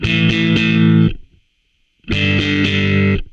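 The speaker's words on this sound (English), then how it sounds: "It gets real cool once the power chords come in." Distorted electric guitar power chords in a rock passage, two loud rhythmic bursts of sustained, gritty chords separated by a brief silence, with a faint steady high tone lingering during the gap.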